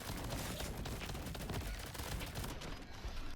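Rapid weapon fire from the video game Crab Champions, a dense, continuous stream of shots shredding enemies, loud and unbroken for the whole stretch.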